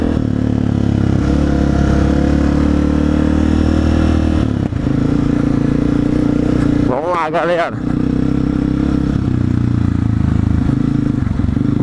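A Honda CRF 250 F off-road motorcycle engine runs steadily and loud, close by, with a brief rise in revs midway, while someone talks over it.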